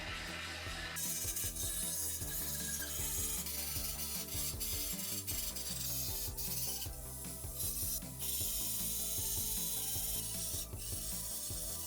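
Dense, grinding and scraping noise fills the clip as leftover spot welds are worked off a BMW E30 325i inner arch, steady and close with rhythmic rubbing and ratcheting textures and no talking.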